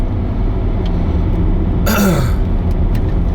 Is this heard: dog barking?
no